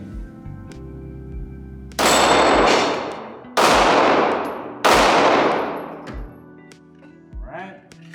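Glock 19 pistol fired at a shooting range: three loud, sharp gunshots about a second apart, each with a long ringing decay, plus a few faint clicks and handling noises around them.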